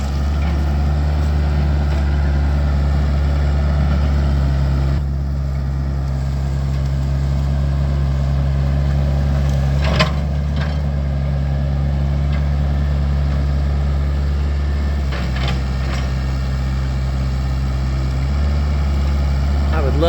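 A tractor hauls two logs, its engine droning at a steady low idle throughout, with faint clanks of metal now and then and someone talking over it.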